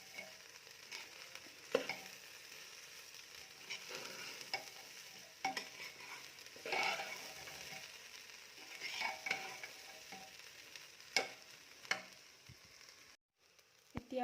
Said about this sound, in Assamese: এতিয়া এইখিনি লাহে লাহে লৰাই অলপ সময় লৰাবই লাগিব এইখিনি।